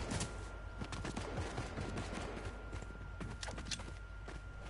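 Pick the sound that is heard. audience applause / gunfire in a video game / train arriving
gunfire in a video game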